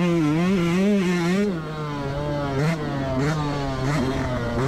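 A 2024 Yamaha YZ125X two-stroke dirt bike engine revs loudly nearby, its pitch wavering up and down at first, then settling into a sustained high buzzing drone with small blips of throttle.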